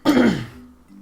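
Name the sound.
throat clearing and coughing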